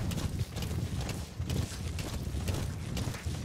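Hooves of a horse moving through the open countryside of Metal Gear Solid V: The Phantom Pain, a run of soft rhythmic clops at close range over steady background ambience.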